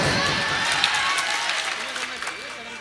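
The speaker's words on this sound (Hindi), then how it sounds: "यही है बस, तुम ताली बजाते रहो" Audience at a mushaira poetry gathering in Dhampur clapping steadily in a dense, continuous wash of applause, with a voice speaking over it.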